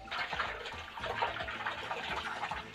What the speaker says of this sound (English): I'm just gonna squelch that around